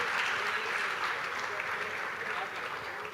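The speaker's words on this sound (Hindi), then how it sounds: "ओके जोरदार ताली एवरीवन" An audience at a student session at IIT Delhi gives sustained applause, a dense, even wash of many hands clapping that fills the whole stretch and fades slightly at the end.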